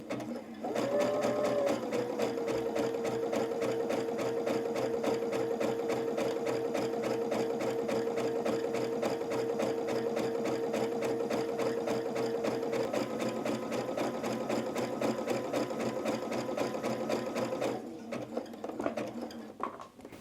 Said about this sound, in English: as I'm sewing, the zigzag stitch is putting the bobbin thread in the middle